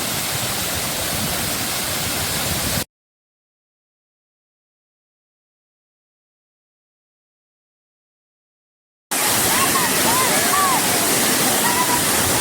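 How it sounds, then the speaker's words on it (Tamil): Kampung Sungai Dua Waterfall roars with a constant, close rush of water that breaks off into silence and then returns, with a voice speaking over it. "Kampung Sungai Dua Waterfall."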